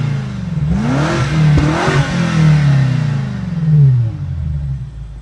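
The twin-turbo V8 of a 2025 BMW M5 revs through its quad exhaust, loud and close, rising and falling in several throttle blips with a deep, rumbling tone.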